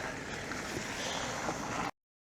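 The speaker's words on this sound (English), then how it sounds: "I'm loving the sound of running water here." Steady rushing water flows beside a quiet country road in rural England, a continuous broadband wash heard close and unbroken for about two seconds with some wind mixed in, then cutting off abruptly.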